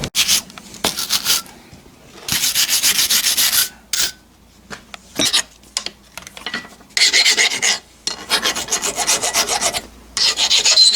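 Rusty metal tractor steps are roughed up by hand before welding, giving loud close rasping strokes in irregular bursts separated by short pauses.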